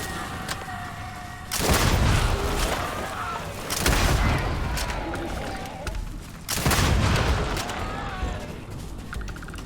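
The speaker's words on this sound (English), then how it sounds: "This gun packs a punch." Heavy gunfire from a weapon in the sci-fi game Starfield, three loud booming bursts of shots with rumbling tails, spaced a few seconds apart over steady background game noise.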